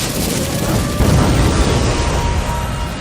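A loud, sustained roaring blast of an anime fire-style flame bomb explosion from Naruto Shippuden, a dense, rumbling wall of fiery noise filling the whole stretch without letup.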